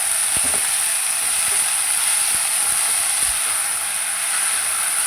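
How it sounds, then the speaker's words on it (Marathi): Fenugreek leaves steam and sizzle in a garlic tempering of hot oil, giving a loud, steady hiss broken by scattered sharp crackles and pops close at hand, without any talking. "म्हणजे मेथी छान वाफली जाते।"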